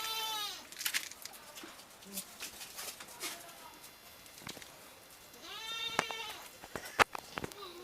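A goat bleats in loud, wavering cries, one early and another longer call later, with birds cooing and faint livestock sounds around it.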